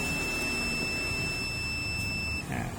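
Multimeter continuity tester beeping on the pins of a Hisense 65B7100UW TV board, one steady high electronic tone held for about two seconds, then cutting off, over a hissy background.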